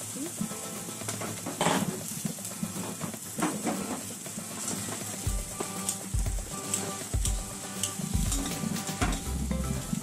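Sausage frying on a grill at a winter scout campout: a steady, faint sizzle with irregular scraping and clinking of utensils, plus low knocks in the background.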